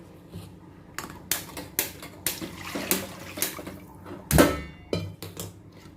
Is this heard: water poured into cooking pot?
yes